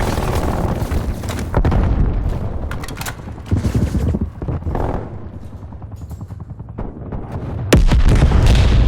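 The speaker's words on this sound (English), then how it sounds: "Enemy grenade!" Explosions and gunfire from Call of Duty Cold War on the Nuketown '84 Hardpoint map, including a grenade blast, burst out in repeated loud booms over continuous battle noise, with no speech heard.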